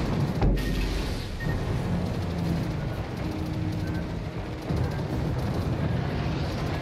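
Anti-aircraft guns on a warship in the World of Warships game, heard as rapid, dense booming gunfire in a continuous rumbling barrage, with one sharp blast near the start.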